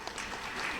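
Audience at a Tamil pattimandram debate clapping, a brief, steady burst of dense applause with no talking over it.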